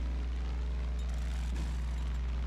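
A propeller plane flies in the video game Far Cry 5, its engine a steady, loud, droning buzz that holds evenly throughout, with a brief rush of louder noise partway through.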